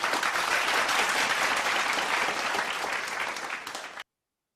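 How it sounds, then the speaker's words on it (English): Congregation applause at a church service in the Philippines, a dense, steady burst of many hands clapping that fades slightly and then cuts off abruptly. "let us give a round of applause for Heavenly Parent and True Parents"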